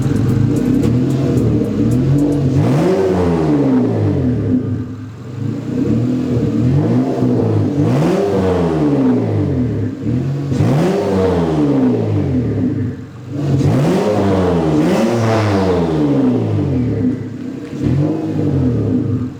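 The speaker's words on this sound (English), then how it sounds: "Turbo noise is a little bit more apparent with all the piping connected." A turbocharged Honda engine with all the turbo piping connected revs repeatedly in the open, each rise and fall loud and close, with turbo whoosh and whine swelling over the engine note between repeated throttle blips.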